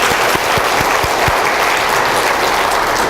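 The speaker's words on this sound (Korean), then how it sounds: "우리 하나님께 영광의 박수 한번 하겠습니다" A church congregation claps together in a dense, steady burst of applause, loud and sustained throughout with no voices over it.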